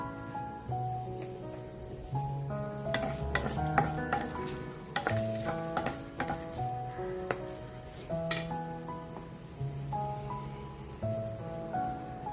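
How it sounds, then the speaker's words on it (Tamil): Cinnamon, bay leaf and star anise drop into hot oil and sizzle with a crackling frying hiss, alongside a few utensil clinks. Soft tonal background music runs underneath throughout. "இப்போ எண்ணெய் காஞ்சிருச்சு எடுத்து வச்ச அந்த பட்டை இலை பூவை போடுவோம்"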